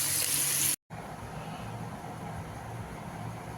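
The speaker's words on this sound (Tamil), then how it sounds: "இப்போ இந்த வெண்டைக்காயில் கொஞ்சமாக தண்ணி சேர்த்துக்கலாம்" Water pours steadily into a pan of frying okra (ladies finger), a continuous close hiss and gush with one brief break near the start.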